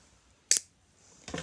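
Jewellery wire has its end snipped off with cutters during simple earring making: a single sharp metallic snip, then a softer second click a moment later, close and isolated in quiet.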